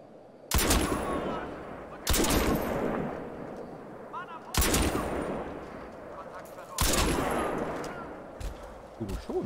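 Gunfire in the video game Crysis 2, four heavy blasts with long rumbling tails spaced a couple of seconds apart, loud and close, with faint game sounds in between.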